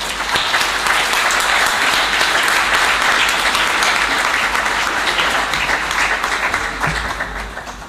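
Sustained loud applause from a conference audience at the close of a lecture on penal mediation in Spain and Italy in Cagliari, a thick even roar of clapping that tapers slightly near the end, with no voices.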